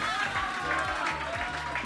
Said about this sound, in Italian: Facciamo un applauso a Chetra, scusate.